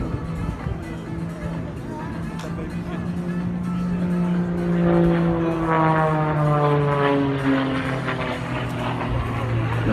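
An Extra 330 aerobatic airplane performs a flying display at the 2018 Paris Le Bourget air show. Its propeller engine drones steadily, its pitch sliding up and down through the manoeuvres and swelling louder midway through.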